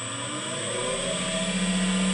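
An electric motor on a variable frequency drive spinning up toward 3600 RPM in a pipe-making workshop, a steady whining hum with a high electronic tone that climbs slightly in pitch and loudness, alone.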